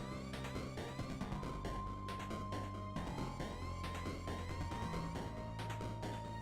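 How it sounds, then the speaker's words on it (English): Retro video game boss theme music with a rising-and-falling warning siren woven through dense, busy chiptune-style instrumentation, played continuously at steady loudness. "that's why I like the siren thing. It's giving you a warning."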